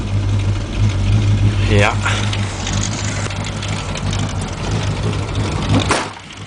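1977 Chevrolet Blazer V8 idling after a cold start, a steady low rumble throughout with brief throttle blips, a short spoken word over it.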